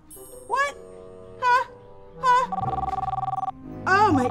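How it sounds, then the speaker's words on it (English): A telephone rings in a children's dinosaur toy show: repeated chirping electronic ring bursts with a rapid buzzing trill in between, loud and close, with a voice briefly underneath. "I think that might be my phone."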